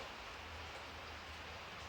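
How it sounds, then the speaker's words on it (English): Heavy pouring rain makes a steady, dense hiss of drops, constant and unbroken throughout, fairly soft and with no voices over it. "we're not racing because it's pouring rain"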